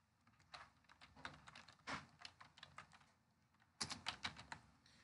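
Typing on a computer keyboard while entering spreadsheet data, bursts of quiet rapid key clicks with short pauses between, close and faint with no talk.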